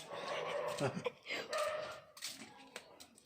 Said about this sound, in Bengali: কোথায় কোথায় ডগি ডাকছে